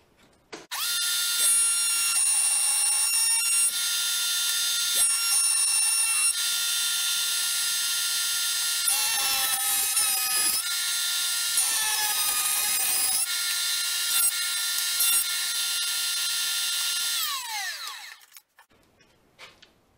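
Router table cutting a Roman ogee profile into wood for a farmhouse key rack: a loud, steady high-pitched whine with shifting pitch as the bit bites, running continuously for about seventeen seconds before spinning down and stopping.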